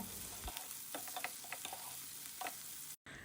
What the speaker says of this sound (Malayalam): ലോ ഫ്ലെയിമിൽ വെച്ചിട്ട് തന്നെ ഈ പയർ നല്ലതുപോലെ ഒന്ന് കുക്ക് ചെയ്തെടുക്കണം അതുവരെ ഇതിങ്ങനെ ഒന്ന് മിക്സ് ചെയ്തുകൊണ്ടിരിക്കുക